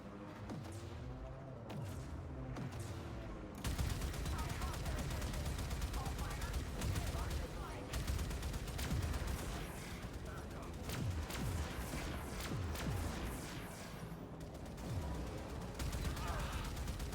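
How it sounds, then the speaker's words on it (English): Torpedo launches in the video game Warframe, a dense barrage of sharp blasts and booming bursts rolling over continuous game noise for most of the stretch, with an underwater-like rumble between the hits. "Launch torpedoes."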